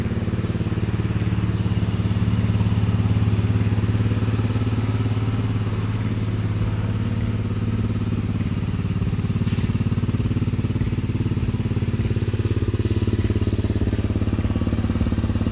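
A 2018 Honda CRF250 Rally motorcycle idles nearby with a soft, low exhaust burble, a steady and fairly mellow engine rumble that holds for the whole stretch without speech.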